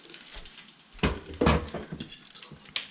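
Cooked tofu dumped into a sizzling pan while making tomato and tofu pasta, a few close clattering thumps and scrapes of food hitting the pan over a soft frying hiss.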